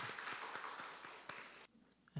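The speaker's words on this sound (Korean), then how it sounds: "박수로 감사합시다" A church congregation claps in a brief, soft burst of scattered applause that fades out after a couple of seconds, heard at a distance in a reverberant hall.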